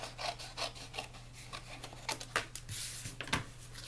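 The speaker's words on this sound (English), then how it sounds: "if I want to save some of this cardstock for later use, I'm just going to trim it off" Cardstock is trimmed with a series of faint, quick scraping and rubbing strokes, close by and quiet, in short irregular bursts with no talking.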